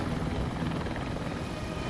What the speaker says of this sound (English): Pilot Yass holds the helicopter steady, so paramedic Pete can jump out.